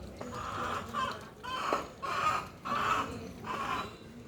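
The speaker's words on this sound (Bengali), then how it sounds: "মুরগির ডাকটা শুনতে পাচ্ছ বন্ধুরা তোমরা?" A hen clucks in a series of about five rhythmic bursts, fairly faint and close, with short pauses between each call.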